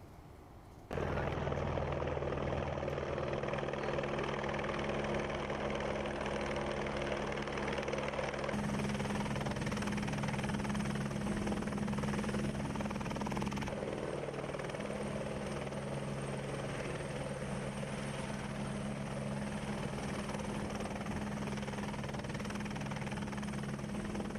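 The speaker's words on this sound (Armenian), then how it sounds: "Սանավիացիայի ուղղաթիռը քիչ առաջ Էրեբունի բժշկական կենտրոն տեղափոխեց Շիրակի մարզում" An air ambulance helicopter drones loudly and steadily nearby, its rotor thumping in a constant low rumble for the whole stretch.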